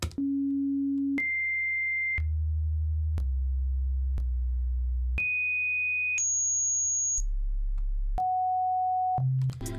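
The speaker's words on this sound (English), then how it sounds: "random tones are being generated" Synthetic sine tones generated in After Effects step through random pitches, each steady pure note lasting about a second with a click at every change, layered over low hum-like tones.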